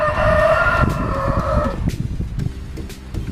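Hungry backyard chickens clucking close by at midday, a dense overlapping chatter of low fowl calls with a higher sustained call at first, no talk.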